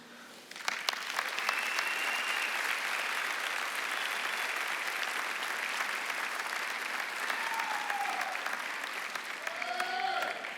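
An audience at a graduation ceremony breaks into sustained applause, a dense, even wash of clapping from a large crowd that carries on throughout with faint voices mixed in.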